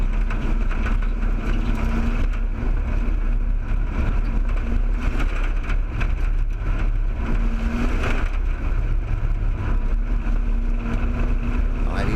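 A race car engine drones continuously on a track, with the throttle pressed and eased so the pitch rises and dips, loud and steady throughout with no talk.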